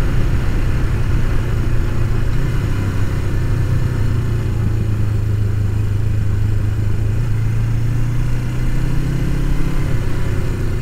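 A 1989 Suzuki GS500 cafe racer rides on a cold, icy road, its engine droning steadily and loud up close, with the pitch rising and falling slightly as the throttle changes and wind noise over it.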